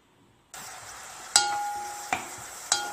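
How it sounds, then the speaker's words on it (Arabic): Chopped onion hits hot oil and bursts into a loud, steady sizzle after a moment of quiet, with a few sharp stirring clanks against the pan. "حطوا الزيت، حطوا البصل، خلوه يتقلى مليح"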